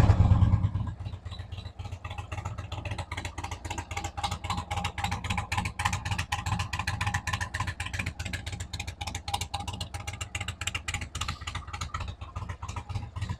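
A motorcycle, Harley-Davidson or Indian, starts at the press of an ignition button and settles into a steady, rapid-pulsing idle, close and fairly quiet, with no one talking.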